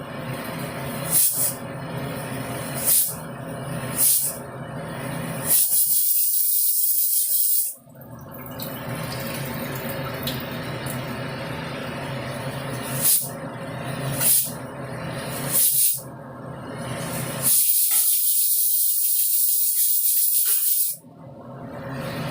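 A pressure cooker on the stove during lunch preparation lets off steam in a run of loud, sharp hissing bursts, broken by two short silent gaps, with no one speaking.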